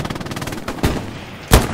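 Machine gun fire from the video game Hell Let Loose: a rapid burst of shots followed by two loud, isolated bangs.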